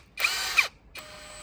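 A Workfix cordless impact wrench, 450Nm or 650Nm model, whirs in a sharp high-pitched burst of about half a second, then runs again more softly after a brief pause.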